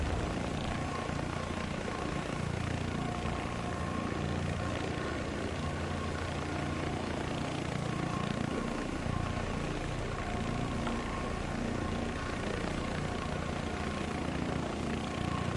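Constant roar of an RAH-66 helicopter flying in War Thunder, a dense, steady engine and rotor drone that fills the whole stretch without letup and with no talk over it.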